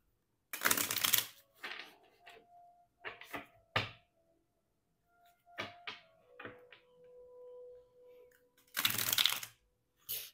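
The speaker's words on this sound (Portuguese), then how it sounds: "Enquanto eu vou embaralhando aqui" Tarot cards are shuffled by hand in bursts, with a dense riffle at the start and another near the end and shorter card flicks and taps between them, close and otherwise quiet.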